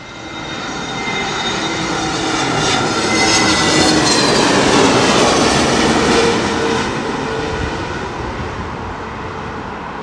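An Airbus airliner landing at Heathrow in stormy conditions, its engine roar swelling close and loud then easing off as it touches down on the runway.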